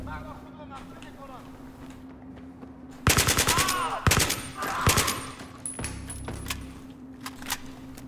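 Automatic gunfire in the Battlefield 3 video game. Loud bursts of rapid shots start partway through and give way to scattered shots over a steady background hum.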